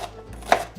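A single sharp knife chop through onion on a board, one quick crisp strike near the middle, close and alone, made while preparing a cauliflower tot mix.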